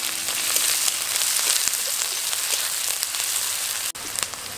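Chopped onion with green chilli frying in a pan until light brown, a dense hissing sizzle filling the clip at a steady moderate level with faint crackles.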